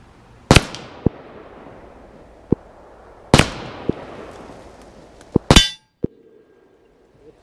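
Handgun shots fired at targets 50 yards away outdoors, sharp loud cracks spaced a few seconds apart with ringing echoes, fainter distant shots from other shooters in between.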